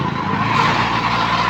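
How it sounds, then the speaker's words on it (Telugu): A Luna moped rides along with its small engine and silencer buzzing steadily and loudly, a continuous rough drone with a hint of whine. "కొంచెం లూనా సౌండ్ అయితే గిరిగిరి అని వస్తుంది, సైలెన్సర్ అట్లా సౌండ్ అయితే చేస్తుంది"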